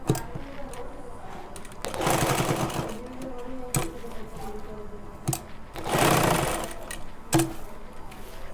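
A sewing machine stitches a pocket onto pajamas in two bursts of steady whirring, each about a second long, with short mechanical clicks and handling sounds in between.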